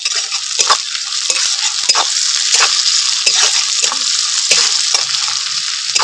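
Steady loud sizzling of onions and chillies frying in a pan, with repeated scraping stirs every second or so; no voices.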